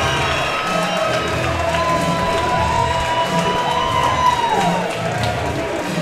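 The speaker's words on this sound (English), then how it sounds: "You hear the crowd going wild." A boxing crowd cheers and whoops after a TKO win, a loud, steady roar of voices that holds for several seconds.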